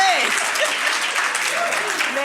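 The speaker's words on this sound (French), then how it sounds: "On les applaudit très fort, toutes les 5-6." Loud, close applause from an audience at an awards ceremony for a women's entrepreneurship challenge as the five or six finalists are honoured, continuous clapping with cheering voices and calls over it.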